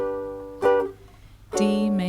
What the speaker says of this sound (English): So if you play these with just a down strum, it will sound like this.